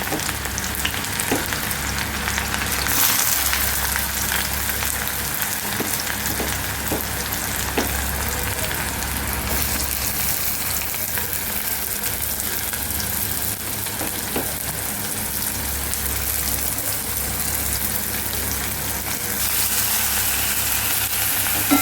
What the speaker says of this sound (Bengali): তেলটা গরম হয়ে গেছে। এবার তেলের মধ্যে দিয়ে দিলাম পেঁয়াজ কুচি।